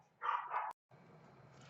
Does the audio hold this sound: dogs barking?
yes